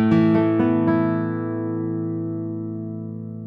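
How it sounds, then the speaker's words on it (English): Mario Gropp classical guitar: a few plucked notes and a strummed chord ring out clearly and close, then sustain and slowly fade over several seconds, with no voices. "it's the second time that I'm playing a Mario Gropp guitar, and yeah, let's see how the guitar sounds"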